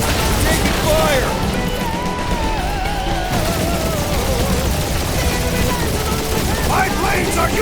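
Dense, continuous gunfire from turrets during a space-flight battle in Marvel's Guardians of the Galaxy, loud rattling bursts and booms blended with engine roar and music, with shouted voices over it throughout.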